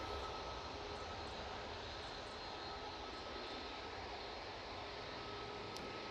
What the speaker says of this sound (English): Ryanair is off to Gothenburg,